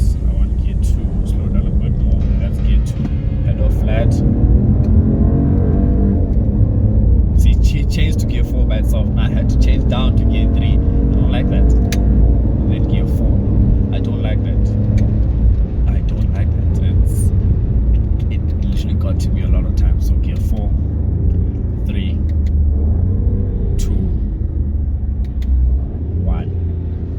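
A 2022 Opel Mokka engine drones and rises as the car accelerates and downshifts through the gears, a loud steady cabin rumble heard beneath a person talking throughout.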